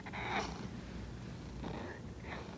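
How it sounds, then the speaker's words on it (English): Pet cat Bob purrs and snuffles softly close by, a low steady rumble with a couple of brief breathy bursts, no talking over it. "He was my first kitty cat."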